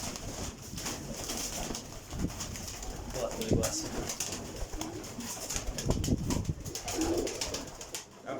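Pigeons cooing in a loft, including a rare green-necked breed, with repeated soft close coos over someone talking.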